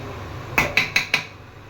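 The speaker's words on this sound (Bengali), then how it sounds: "এটা এবার একটু নাড়াচাড়া করে নিয়ে ঢেকে দেবো চালটা সেদ্ধ হওয়ার জন্য" Four sharp metallic knocks of a spoon against a cooking pot of rice pulao, evenly spaced and close, sounding alone over a quiet kitchen background.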